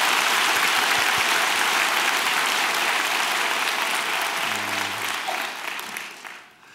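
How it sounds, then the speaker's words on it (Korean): A church congregation applauds warmly for members worshipping overseas. The clapping is dense and sustained, then fades out toward the end, with no talk over it. "그분들에게도 축복의 박수를 곱빼기로 한번 해주시고"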